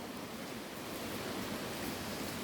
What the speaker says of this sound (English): we're at the waterfall, guys